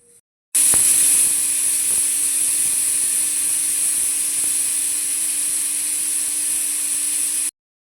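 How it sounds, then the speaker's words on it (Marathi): A pressure cooker on a low flame lets out a single long, loud, steady whistle while cooking a cashew curry. It hisses for about seven seconds, then cuts off abruptly. "छोट्या गॅसवरती छान अशी एक कुकरची शिट्टी होऊन द्या"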